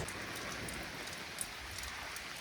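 Heavy rain pours down on a camper, a soft, even hiss of drops on the roof that stays constant and fairly faint.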